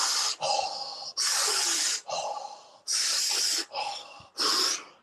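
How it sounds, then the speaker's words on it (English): Deep, intense breathing in a guided conscious connected breathwork session, with loud, close, rhythmic inhales and exhales following one another in quick succession and no talking. "Really deep breaths."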